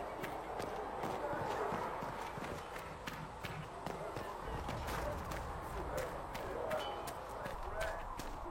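Horse hooves clip-clop in a steady trotting rhythm inside a video game, sharp repeated clacks fairly close over a low ambient bed, with a voice speaking briefly.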